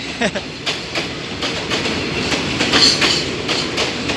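Thai crude oil freight train number 2133 rolling past from the Bangchak refinery, loud and close with a steady rumble and rhythmic clickety-clack of wheels over rail joints.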